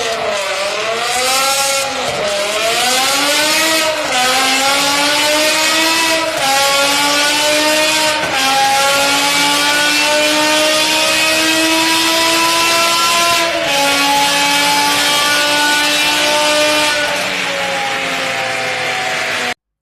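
A BMW E60 M5 with its 500-horsepower V10 and 8,250 RPM redline screams through repeated hard accelerations, pitch climbing and dropping with each gear change, loud and close without any talking.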